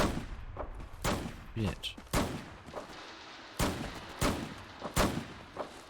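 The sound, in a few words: minigun gunfire in Fallout 4 video game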